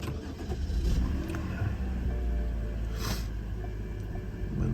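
A 2011 BMW 328i engine cranking and catching, then settling into a steady idle with a low rumbling hum and a brief higher whir near the end, heard close and alone.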